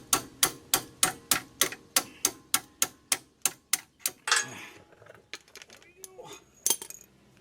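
Rapid evenly spaced metallic taps ring out as a small screwdriver is hammered against a seized brake caliper pin on a 2001 Chevy Astro, about sixteen sharp strikes followed by scraping, clinks and a final clatter.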